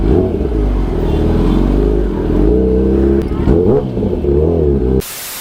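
A superbike engine revs hard on a road in India, loud and close, its pitch climbing and falling through several throttle blips before cutting off near the end.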